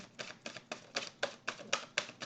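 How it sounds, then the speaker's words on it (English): Tarot cards being shuffled during a card reading: a quick, even series of about nine crisp riffling snaps, close and fairly quiet, with no voice over them. "Let me just shuffle to get a few cards"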